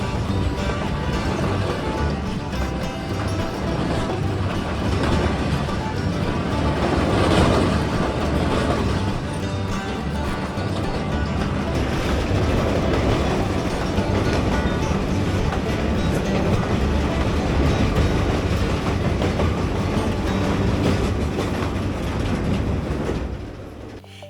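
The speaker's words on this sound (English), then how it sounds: "the Alaska Railroad runs through town, dropping off and picking up passengers, making flag stops along the way." An Alaska Railroad train rumbles through Talkeetna, a loud, steady roar of wheels and cars with a clattering rhythm that keeps going throughout before ending abruptly.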